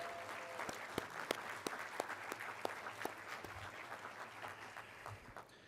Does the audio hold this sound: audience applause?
yes